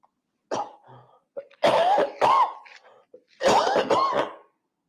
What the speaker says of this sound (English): It's one of those coughs, I get a tickle